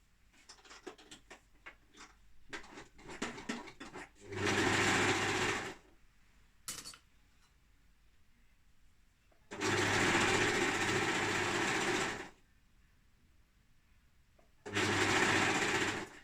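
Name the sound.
sewing machine stitching around a leggings waistband edge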